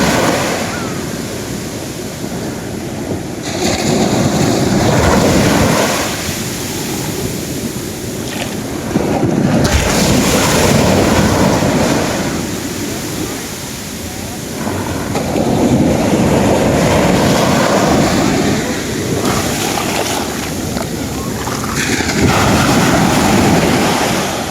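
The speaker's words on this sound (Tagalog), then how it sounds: "Grabe yung alon." Strong ocean waves crash on a beach in loud, rolling surges that rise and fall every few seconds, with heavy wind buffeting the microphone throughout.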